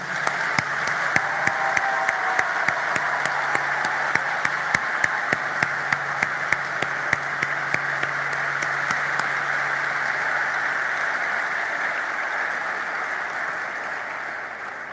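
Audience applause at a ceremony for graduates in Port-au-Prince, a steady, even wash of many hands clapping that runs on for the whole stretch at moderate level, with a few sharper claps standing out early.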